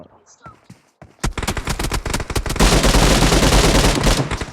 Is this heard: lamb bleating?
no